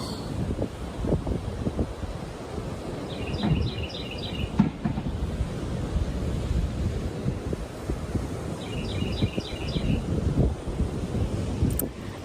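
Ocean waves and wind at the shore make a constant, rough rushing roar that never lets up, with faint brief chirps over it and no speech.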